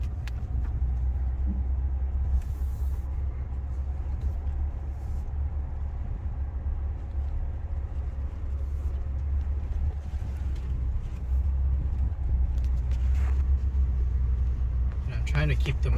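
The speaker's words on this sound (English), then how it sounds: "I'm trying to keep the momentum so that the truck doesn't get stuck" A truck rolls slowly through muddy ground while camping, a steady low engine rumble continuing throughout with faint sloshing and creaks, close and even in level, and a voice speaking over it.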